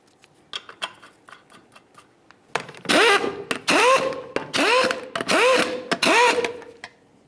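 An impact tool spins 19mm lug nuts onto a Ford Ranger rear wheel in five loud, close bursts, each about half a second long with a rising whine. Quieter clicks and handling noises come before the bursts.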